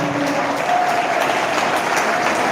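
A large audience at a youth talk event claps steadily in dense, sustained applause that fills the whole stretch at an even, loud level.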